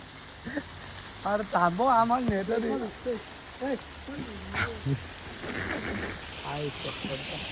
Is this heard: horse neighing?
no